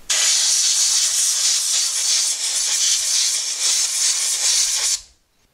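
Compressed air blasts out the electric parking brake coupler on a 2016 Honda Civic rear brake. A loud, continuous hiss lasts about five seconds and then cuts off sharply.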